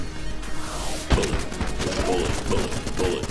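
Rapid bursts of gunfire from a bullet-shaped gun in the video game Enter the Gungeon, a dense run of repeated shots with a sharp crack near the start, continuing under game sounds.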